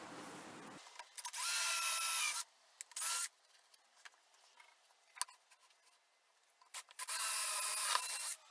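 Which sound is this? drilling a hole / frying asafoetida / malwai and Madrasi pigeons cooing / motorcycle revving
drilling a hole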